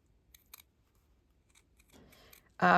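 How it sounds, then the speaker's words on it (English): Very sharp scissors make a few faint snips, then a louder slicing cut through fabric for reverse applique, close up and mostly alone in a quiet room. "These are really sharp scissors."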